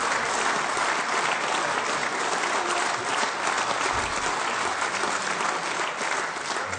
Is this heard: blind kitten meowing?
no